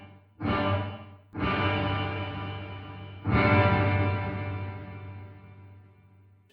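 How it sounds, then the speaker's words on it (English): Strummed guitar chords played through a Headrush Bright Hall reverb setting ring out three times, each swelling into a long, echoing hall decay with a faint delay trailing inside the tail. "it adds a certain echo. There's a delay sound inside of that."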